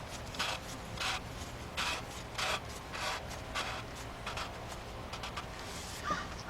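A plastic oil filter housing cap on a 2016 Jeep Grand Cherokee 3.6 being threaded on by hand, giving a series of soft, rhythmic scraping rasps about every half second, close and fairly quiet, with no talk.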